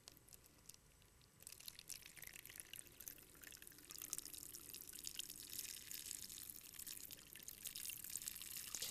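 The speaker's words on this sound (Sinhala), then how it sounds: "ඔයාලට පේනවා පුතේ උඩ ඉඳන් වතුර වැටෙනවා." Water poured from above splashes and trickles into a small pool gathering below, a steady running patter that grows slightly fuller partway through and continues alone without talk.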